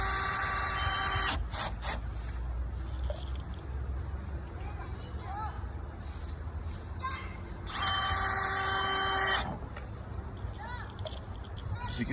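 A power drill drives screws into wooden door boards in two loud whirring bursts near the start and later, with quieter clicks, handling noises and background hum in between.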